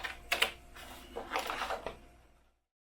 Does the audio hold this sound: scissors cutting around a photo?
yes